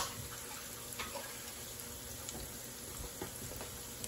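Hands being washed under a running kitchen tap while squash fritters cook, a steady close wash of flowing water throughout with faint splashes and no speech.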